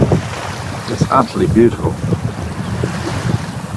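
Sailboat under way on the River Elbe along the North German coast, with steady wind buffeting the microphone and water washing past the hull, while a person speaks briefly over it.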